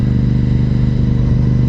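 Engine of a motorcycle ridden on a daily commute, a loud steady mid-pitched drone with a fast pulsing rumble, heard close and alone.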